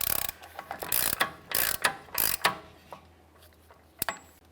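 A hand ratchet snugs the axle nut on a GMC Acadia rear hub after a new wheel bearing is fitted: several bursts of close, loud clicking in uneven spurts, then a couple of isolated clicks near the end.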